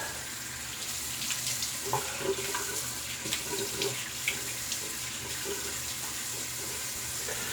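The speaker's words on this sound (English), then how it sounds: "Cold water splash" Cold water runs and splashes from a bathroom tap into a sink, a steady close rush broken by irregular splashes as hands dip into the stream, with no talking.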